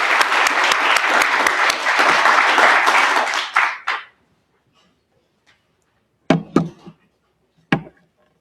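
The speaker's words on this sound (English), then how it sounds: "So let's give a round of applause for Cole Rowland." A crowd at a county treatment court graduation claps steadily for about four seconds, then the applause stops abruptly, leaving near silence broken by a few scattered knocks and taps.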